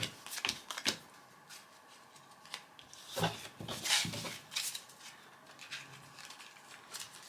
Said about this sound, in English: Shuffle the park cards